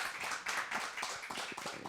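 A studio audience gives a short, quiet round of applause for actor Remy Hii, steady clapping with no voices over it.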